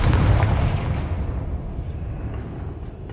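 A booming fire-spell blast, Confringo from the Hogwarts Legacy video game, bursts loudly at the start and then rumbles and decays over a few seconds.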